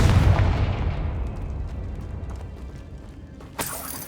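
The Confringo fire spell blasting in Hogwarts Legacy: a loud, deep boom that fades into a long rumbling decay, followed by a brief sharp crack near the end.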